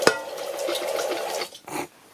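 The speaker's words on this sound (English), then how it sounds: "Runs down into a bucket that's under the countertops, and you get running water out of it" A rechargeable cabin sink runs water down into a bucket under the countertop, a brief, soft trickle that splashes and sputters for under two seconds before fading.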